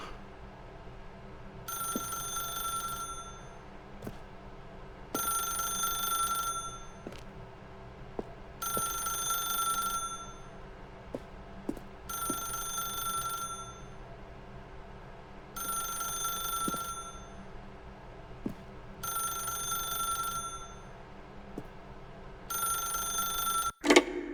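Telephone bell in The Stanley Parable: Ultra Deluxe rings in six or seven evenly spaced bursts of about two seconds each, loud and clear over a low steady hum, with no voices.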